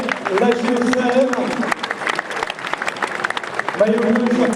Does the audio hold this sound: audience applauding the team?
yes